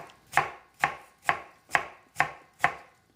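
Six evenly spaced knife strokes chop vegetables for kimchi on a cutting board, each a crisp close thud, with no talking.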